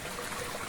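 Water pours steadily from a spout to rinse a large sieve, a continuous soft splashing trickle heard close up and alone.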